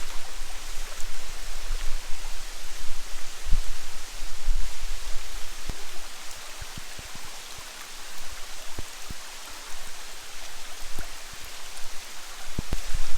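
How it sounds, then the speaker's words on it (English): Steady summer rain hisses down in a continuous wash at a creekside woodland campsite, with occasional heavier drops tapping nearby surfaces. "Caught a little bit of rain here. It's actually quite refreshing. Nice summer shower."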